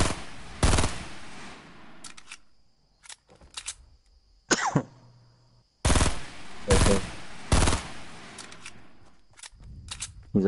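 Video game gunfire while shooting something down, short sharp bursts of shots separated by gaps, some quick rapid volleys and single cracks, loud and close.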